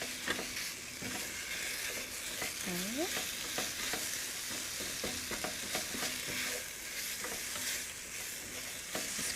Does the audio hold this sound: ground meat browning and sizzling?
yes